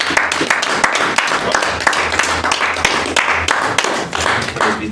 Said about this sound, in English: David, a round of applause.